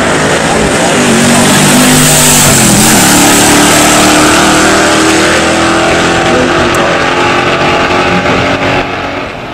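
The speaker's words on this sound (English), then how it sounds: "1963 Studebaker Lark. The Super Lark package, 4-speed, going against his 1970 Camaro Super Sport." A 1963 Studebaker Lark with the Super Lark package and 4-speed drag races a 1970 Camaro Super Sport at a pure stock drag event, with loud, sustained engine roar and revving rising through gears.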